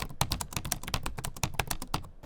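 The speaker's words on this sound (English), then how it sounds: "the keyboards get a real, like, hollow plastic thud to the keystrokes" Someone types fast on the cheap keyboard of a budget Windows gaming laptop, each hollow plastic keystroke clacking in a dense, uneven rhythm, close and clear with no talking.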